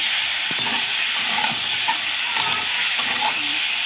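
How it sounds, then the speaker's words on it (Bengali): Chicken pieces fry in a pan with a loud, continuous sizzle and hiss as their moisture cooks off, with faint stirring scrapes underneath and no talking. "এবারে খুব ভালো করে চিকেনগুলো ভেজে নেব, আর জলটাও বেরিয়ে যাবে ভাজতে ভাজতে"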